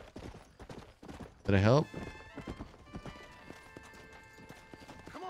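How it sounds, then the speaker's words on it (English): Horse hooves in Red Dead Redemption, a quick rhythmic clip-clop of a ridden horse with a brief whinny near the start, mixed with game music and someone talking. "I ran over him with my horse."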